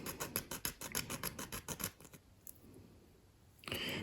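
Razor saw cutting a plastic scale model part for a 1/200 IJN Mikasa battleship, a close, quick series of rhythmic rasping strokes for about two seconds, then a pause and a brief scrape.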